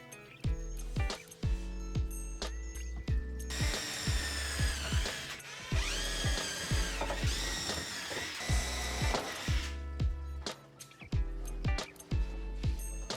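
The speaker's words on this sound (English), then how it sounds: "Then I measure and mark where I'll pre-drill all the holes" A power drill whirs in bursts, rising in pitch as it bores into wood, with repeated short mechanical clicks and thumps between runs, nearby.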